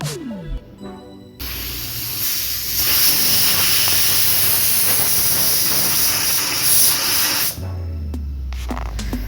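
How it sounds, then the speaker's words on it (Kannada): Kitchen pressure cooker cooking vegetable pulao lets off a loud, sustained hissing steam whistle lasting several seconds, rising in intensity before cutting off abruptly. "ಲಿಡ್ ಕ್ಲೋಸ್ ಮಾಡಿಕೊಂಡು 1-2 ವಿಸಿಲ್ ಬರೋಕ್ಕೆ ಬಿಡಬೇಕು"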